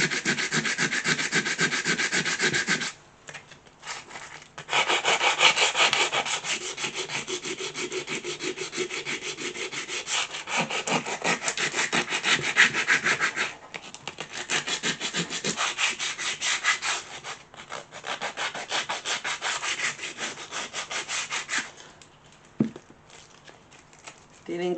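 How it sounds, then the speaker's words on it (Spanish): Rough, rhythmic rasping of coarse number 4 sandpaper scrubbing back and forth across wood during furniture restoration, loud and close, with a few short pauses between bursts of strokes. "con una lija más gruesa, en este caso estoy usando la del número 4"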